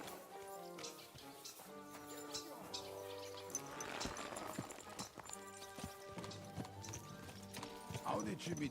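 Rhythmic clip-clop of horse hooves in Kingdom Come: Deliverance 2, with a musical score and other effects layered over the steady trotting.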